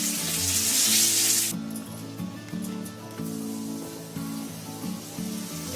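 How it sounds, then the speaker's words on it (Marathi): Bombil (Bombay duck) fish frying in a pan gives a loud sizzling hiss for the first second and a half, then a quieter crackle continues beneath a steady tonal hum. "आता आपले होतं ते बोंबील फ्राय"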